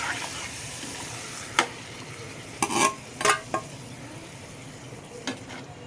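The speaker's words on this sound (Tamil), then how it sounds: "தக்காளியும் காஞ்ச மிளகாவும் வேக வச்சு அதை வந்து நம்ம எடுத்து இப்போ ஊற்றிடலாம்" Ground tomato and dried chili red sauce for pasta poured into a hot pan, giving a soft steady sizzle with a few brief scraping and splashing bursts, no voices.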